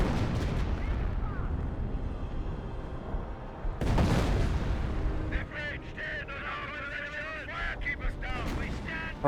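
Artillery barrage in the World War II strategy game Company of Heroes, with continuous rumbling booms and a loud blast near the middle, followed by crackling fire and battle noise. A voice speaks over the explosions.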